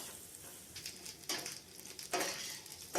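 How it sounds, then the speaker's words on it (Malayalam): Chopped coconut sautés in coconut oil with a faint sizzle. A spoon stirs and scrapes the pan in a few soft bursts, and no one speaks. "കുറച്ച് വെളിച്ചെണ്ണ ഒഴിച്ച് അതിലേക്ക് ചെറുതായി അരിഞ്ഞ് വെച്ച് തേങ്ങ അത് ഇട്ട് നന്നായി വഴറ്റിയെടുക്കുക"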